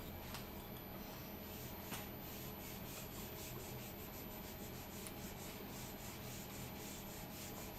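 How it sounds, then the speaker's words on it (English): Steady, continuous rubbing of an eraser wiping chalk off a classroom board during an engineering drawing lecture, a dense broadband scrubbing that stays fairly quiet and even with faint strokes, no talking. "Let me to rub off the board."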